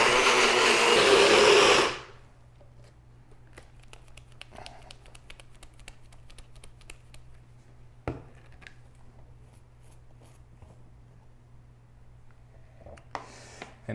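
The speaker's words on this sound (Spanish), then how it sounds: "depende mucho del tipo de licuadora que tenemos" High-power blender blending a vegan pumpkin cake mixture, made without sugar, eggs or dairy, runs loud and dense for about two seconds, then cuts off abruptly, leaving a low hum with a few faint clicks and a sharp knock.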